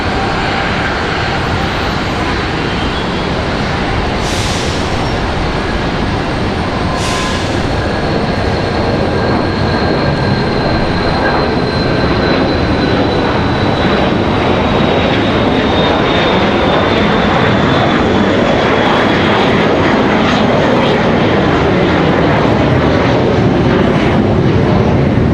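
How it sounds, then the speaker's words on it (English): An executive jet departs Raleigh-Durham International Airport, a loud, sustained jet engine roar holding steady throughout with a broad rushing wash and a thin whine drifting downward as it climbs away. "Nice exec jet departure."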